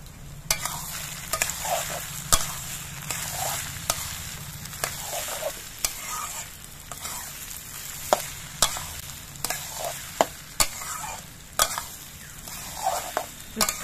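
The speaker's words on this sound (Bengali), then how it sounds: "খানিকক্ষণ কষিয়ে নিতে হবে।" Chili, cumin and turmeric powders sautéing in a pan for khichuri: a steady close sizzle broken by regular sharp spoon taps and scrapes against the metal as the spices are stirred, with no voices.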